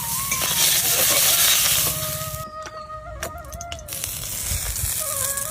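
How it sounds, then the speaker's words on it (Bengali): Fish lightly frying in an oil-filled pan for a home-style Bengali rui curry gives a steady, close sizzle and crackle that fades briefly midway, with faint kitchen clatter. "হ্যাঁ, হালকা ভাজবো আমি মাছটা, আমি হালকা ভাজবো।"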